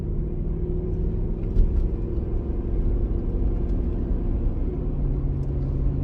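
Jeep Grand Cherokee WJ with a 4.7 V8 and upgraded four-hole fuel injectors, running smoothly at low RPM, a steady deep close rumble with a faint brief knock partway through.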